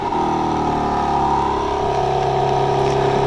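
A 2025 BMW M4 Competition xDrive with quad-tip dual exhaust fires up by remote start and settles into a steady, loud, rumbling idle that continues unbroken with no talk.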